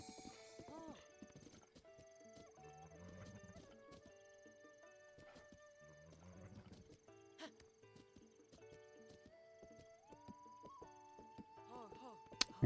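Horse hooves clip-clop in a video game, a steady rhythmic trot heard under game music and chatter from players talking over it.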